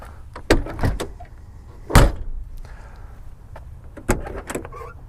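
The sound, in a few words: car doors shutting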